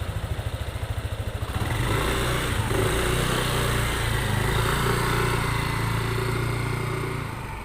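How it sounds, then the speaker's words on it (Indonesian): A motorcycle on a safety riding practice course brakes and then turns, its engine puttering in quick pulses before settling into a steady, fairly close drone that eases off at the end. "nah dia mengerem kemudian baru belok dengan aman"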